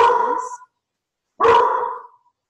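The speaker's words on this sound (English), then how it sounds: "My dog just heard somebody knocking." A dog barks in two separate loud bursts, about a second apart, reacting to someone knocking, with silence between them and no talk.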